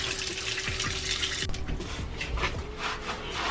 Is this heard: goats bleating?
no